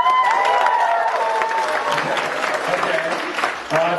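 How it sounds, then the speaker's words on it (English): A crowd applauds loudly for a few seconds, steady clapping that gradually thins out, with a few voices mixed in. "It's good the vegans have enough energy to clap."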